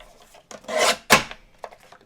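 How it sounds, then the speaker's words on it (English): Paper trimmer cutting small pieces of card for a handmade thank-you card, heard as two close, rasping slides of the blade about half a second apart, followed by a few light taps, with no talk. "let's grab my paper trimmer. All right, and I'm going to trim these little pieces"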